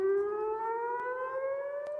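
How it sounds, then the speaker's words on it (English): An air raid siren wails over Jerusalem, a single steady tone rising slowly in pitch, loud and sustained throughout with faint background noise. "Air raid sirens echo into the skies of Jerusalem."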